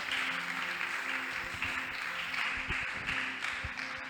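A church congregation applauding during worship, a sustained wash of many hands clapping at moderate distance, steady throughout with a few low thumps underneath.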